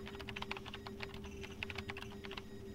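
Rapid keyboard-style typing blips from the video game Paper Mario: The Thousand-Year Door, a quick irregular run of small clicks over a steady low hum, with no talking.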